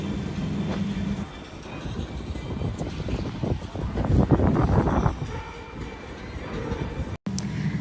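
An underground Paris metro train rumbles steadily through the tunnel, a loud broadband roar with faint clattering, and no talk over it.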